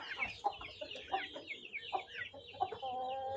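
An Aseel hen brooding on her eggs clucks in a run of short, irritable, close calls with brief gaps between them, and no voices are heard.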